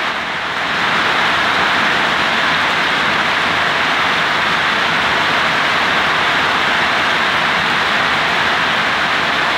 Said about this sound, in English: We've got a storm and we've got rain.